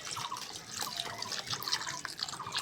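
Water poured into a pan of spiced cauliflower curry with chickpeas, a steady close splashing and trickling for a few seconds with no talk.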